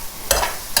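Leeks being stirred through butter in a pan, two short bursts of scraping and sizzle against a quiet background, close and moderately loud.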